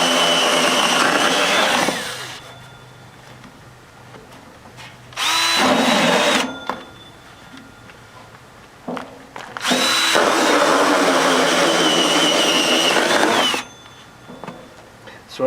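Power drill boring holes into a cement wheelbarrow wheel, with three loud, close whirring bursts of several seconds each separated by quiet pauses.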